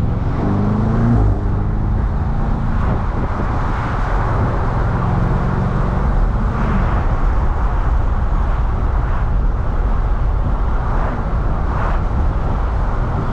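A BMW M8 Competition driving on a road, heard from inside as a steady, loud engine and road drone that holds level throughout with no breaks.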